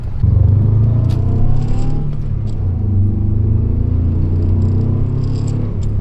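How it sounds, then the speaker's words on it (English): A car engine hums steadily while driving, a low continuous rumble with smooth tonal bands and faint clatter, loud and close with no talk over it. "I actually like the tone of this car. It sounds better than the FRS."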